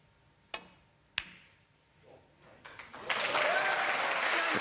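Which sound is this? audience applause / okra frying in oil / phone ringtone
audience applause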